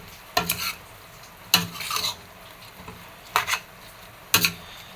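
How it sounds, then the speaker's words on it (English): A spoon stirs Afang soup in a pot in four separate scraping bursts with quiet pauses between, close and alone. "So I will stir it and then add other ingredients."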